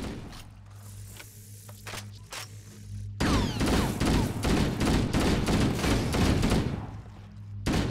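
Rapid bursts of automatic gunfire from a burst-fire weapon in Halo: Combat Evolved: scattered quieter shots at first, then a loud sustained stretch of repeated rattling bursts with mechanical clatter, up close and alone.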